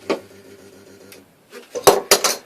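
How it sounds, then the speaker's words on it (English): A Tecna 7902P handheld spot welding tong runs off a 13 amp supply, giving a low electrical hum followed by a few sharp, loud pulsed bursts close by, with no talking. "that's basically the welder"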